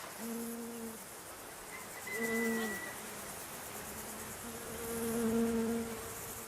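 Honeybees around monastery beehives, free of pesticides, buzzing softly outdoors, with several bees passing close and swelling in loudness before fading away.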